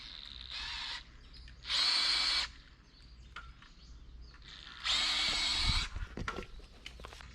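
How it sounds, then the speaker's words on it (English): A power drill boring into wood for a treehouse build whirs in three bursts, each about a second long, with quieter outdoor background and clatter between them. "You tell me where to drill, and then I'll start drilling."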